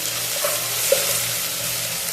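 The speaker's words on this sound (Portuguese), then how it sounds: "Vou fritar aqui o nosso tempero de alho e sal." Garlic and salt seasoning frying in olive oil, a loud, dense, continuous sizzle close up with a faint tap or two of stirring.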